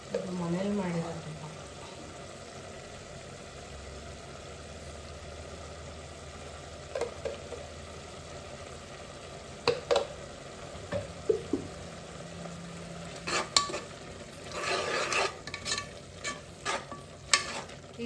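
Masala frying in oil and homemade ghee for methi rice, a soft sizzle under occasional scraping stirs of a spoon against the pan, quiet and close, with a brief voice near the start.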